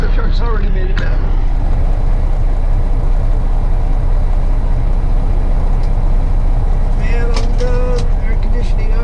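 A delivery truck engine runs at a dry cleaning plant, giving a steady, loud broadband rumble throughout. Faint voices briefly rise above it near the start and toward the end.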